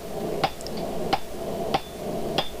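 Four evenly spaced hammer blows ring out on metal as a dragon-face door pull is shaped, each a sharp clang over a steady background hum, with no talking.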